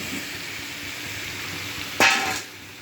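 Pre-fried potatoes and pointed gourd (potol) hit hot oil in a pan, bursting into a sudden loud sizzle around two seconds in that fades back to a steady quieter frying hiss.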